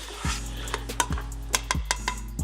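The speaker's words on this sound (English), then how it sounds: "what we're gonna do is we're just gonna stir this up" Peaches and onions being stirred in a pot for BBQ ribs, a spoon scraping and knocking against the metal in irregular clatters over a steady low hum, close and fairly quiet.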